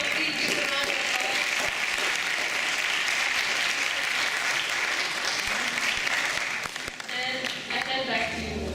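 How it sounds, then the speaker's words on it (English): An audience gives a sustained round of applause for VIP speakers at a Women's Day event, dense clapping filling the room, tapering near the end as a voice begins to talk. "Please give them a round of applause."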